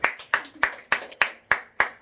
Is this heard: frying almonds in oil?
no